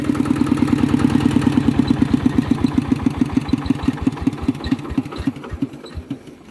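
A small engine, just started, idles with a steady, rapid chugging rhythm close by, then the beat loosens and softens slightly toward the end.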